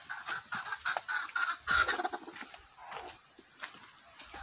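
Kelso chickens clucking in a backyard pen, a busy run of close, moderately loud clucks and short calls overlapping one another with brief pauses, no talking.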